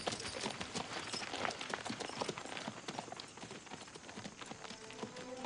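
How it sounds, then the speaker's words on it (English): A hired horse's hooves clop at a quick, steady pace on hard ground, moderately close but fairly quiet. "Come on, David, let's get that horse."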